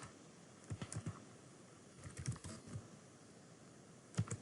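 Apex code for Salesforce being typed on a computer keyboard, soft, fairly quiet clicks in short clustered bursts separated by pauses, with no one talking.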